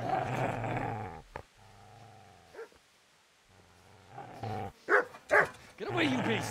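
A dog growls and lets out a few sharp, close barks in bursts, with raised human voices shouting around it.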